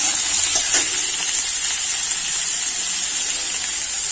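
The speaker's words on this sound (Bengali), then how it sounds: "2 থেকে 3 মিনিট নাড়াচাড়া করে আলু কিন্তু আগে ভেজে নেব।" Potatoes fry in hot oil in a kadai with a continuous close sizzle, a brief louder stirring scrape near the start, and no talking.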